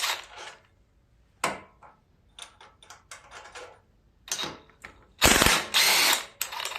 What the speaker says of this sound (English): we're going to take the head bolts off now, which they're 1/2 inch socket